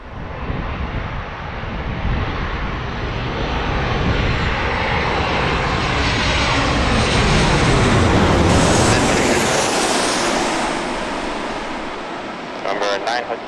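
A United airliner on short final into San Diego Airport, arriving from Denver, roars as it passes close overhead, swelling to a loud peak and then fading, with broadband wind-like jet noise throughout.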